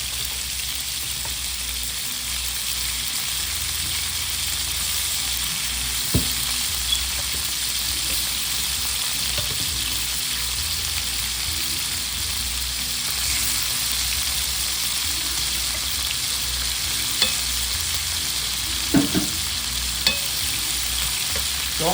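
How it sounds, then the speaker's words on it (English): Pieces of chicken breast sizzle and crackle steadily in a hot pan for fried rice, with occasional clinks and scrapes of stirring over the constant frying hiss. "So I'm frying my chicken."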